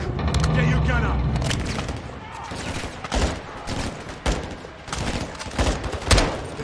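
A Call of Duty: Modern Warfare 2 battle with loud gunfire bursts and heavy booming impacts, including an RPG explosion. Soldiers shout over the repeated crashing blasts at close range.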